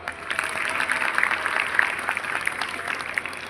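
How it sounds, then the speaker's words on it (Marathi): Audience at a gathering applauds for the president of the Avani Foundation, a steady, moderately loud wash of many hands clapping continuously, with no voices heard over it. "त्यांच्यासाठी सगळ्यांनी एकदा टाळ्या वाजवा"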